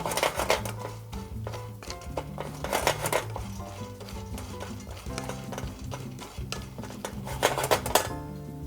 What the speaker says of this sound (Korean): 호두는 약불로 해서요. 살짝 볶아주시고요